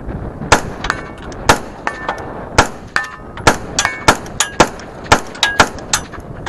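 MK18 rifle fired at a steel target 100 yards away, sharp shots each followed by a ringing metallic clang, about a dozen impacts in an irregular steady rhythm, loud and close.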